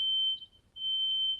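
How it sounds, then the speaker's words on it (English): Smoke detector alarm sounding indoors, a shrill, loud, piercing tone that holds, briefly drops out, then resumes steadily, with no talking. "my fire alarm's going off"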